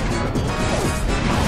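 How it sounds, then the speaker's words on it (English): A heavy smashing blow lands in Pokémon Battle Revolution, a dense, loud crunching impact that fills the brief moment without pause or any voice over it. "A smashing blow. That dealt some massive damage."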